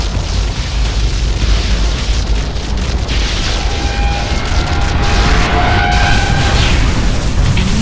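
Big boom and rumbling blast as an enemy orb is destroyed in Unreal Tournament 3 warfare mode on the Avalanche map, a loud sustained explosion over dense game noise with announcer-style cues.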